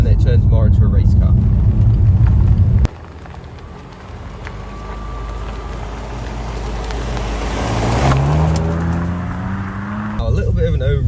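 BMW M2 Competition engine and exhaust on the road in Sport Plus mode, a steady low rumble and drone of the engine under road and wind noise, with a rising rev sweep near the end.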